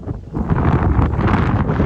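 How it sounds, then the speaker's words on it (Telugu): Cold gusty wind by a mangrove forest buffets the microphone in a steady, loud low rumble, with a faint rustle above it and no voices. "నాకు చల్లగా గాలి కొడుతుంది"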